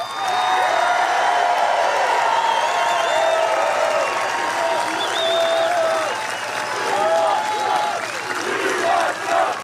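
A large crowd at a Trump rally cheers and applauds loudly and steadily, with whoops and shouts rising out of the roar and a few voices calling out across the whole stretch.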